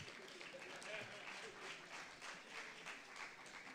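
Applause from the audience at a journalists' association anniversary symposium, a steady, distant patter of many hands clapping that holds at a low level for the whole stretch, with faint crowd murmur beneath.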